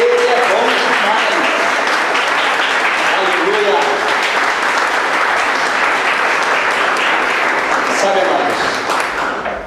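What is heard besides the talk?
congregation applause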